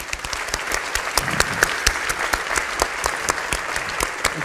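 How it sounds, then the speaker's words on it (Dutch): A large audience applauds at a Dutch reading festival's closing celebration. The applause is loud and continuous with sharp individual claps standing out near the front, and some voices are faintly audible. "Daar wou ik even een heel groot applaus voor"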